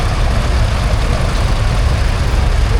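A pair of Fordson Diesel Major tractors passing in a parade at a steam rally, their diesel engines producing a steady deep rumbling drone, loud and close throughout.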